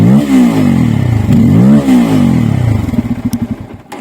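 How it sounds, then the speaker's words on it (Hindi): A Bajaj Pulsar N250 motorcycle is lightly cranked and revved up close, its exhaust rising and falling through two or three throttle blips before settling into a fast, chugging idle that fades away. "तो कुछ इस प्रकार का एग्जॉस्ट मिल जाएगा।"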